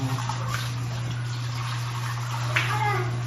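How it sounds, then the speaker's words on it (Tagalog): Water pours into a pot of chicken adobo with potatoes, a steady splashing rush against a constant low electrical hum, with a brief louder splash near the end. "Konting tubig, water."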